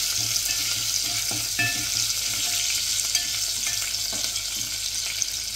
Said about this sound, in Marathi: बऱ्यापैकी तेल तापलेलं आहे, त्याच्यात आपण लसूण टाकून घेऊ।